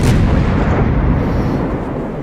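Naval guns firing in World of Warships, a heavy sustained boom with a rolling low rumble that spans the whole moment, loud and dense, with no voices over it.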